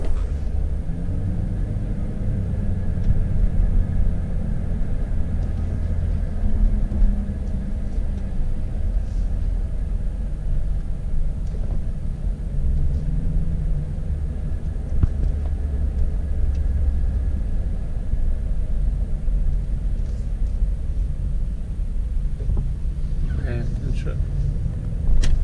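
A car with an automatic transmission pulls away in first gear, its engine giving a steady low rumble inside the cabin for the whole stretch, with no sharp changes in tone.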